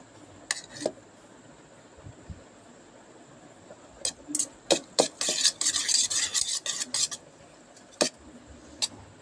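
Spicy food with spice powder being mixed by hand in a dish, a series of scraping, rubbing strokes that come in scattered bursts and thicken into a dense run midway, close and fairly quiet, with no talking.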